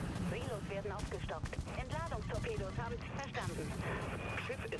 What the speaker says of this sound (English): And here, once again, flak turrets coming clutch.